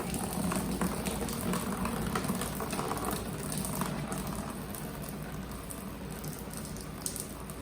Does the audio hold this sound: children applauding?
no